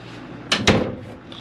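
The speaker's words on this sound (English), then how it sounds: "you can shut it off with these doors" Bathroom doors in a 2007 Gulfstream Independence 8357 Class A gas motorhome are pulled shut, giving two quick, close wooden knocks in a row against a quiet interior.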